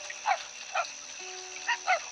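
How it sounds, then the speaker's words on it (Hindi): Dogs bark several times at a distance across a sleeping town at night, short yelps spaced irregularly over a faint steady background hum. "बस कुत्ते भौंक रहे थे।"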